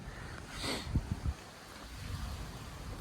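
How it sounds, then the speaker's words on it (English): Wind gusting against a tent at a wild camp beside a ruined Scottish castle, a steady near rush with a brief swell and a few low buffeting thumps of fabric. "with the wind just blowing the tent"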